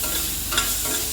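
Tomato sautés with ginger, garlic and onion paste in oil for prawns masala, giving a close, continuous frying hiss with a faint stir near the middle of this very short moment.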